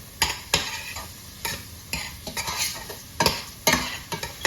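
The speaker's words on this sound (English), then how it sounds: "I'm going to take the same spoon we was already using and just mix that around" A spoon stirs shrimp around in a hot pan, giving a series of quick scraping clacks in an irregular rhythm over a soft sizzle, close and clear with no talking.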